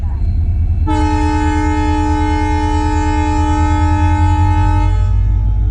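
A Tutari Express train departing Kankavli station on the Konkan Railway in monsoon season sounds a single long, loud horn blast lasting about four seconds over a steady low rumble.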